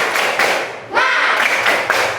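A class of schoolchildren claps and chants a rhythmic cheer in unison, loud and close, with group voices running through the sharp rhythmic hand claps.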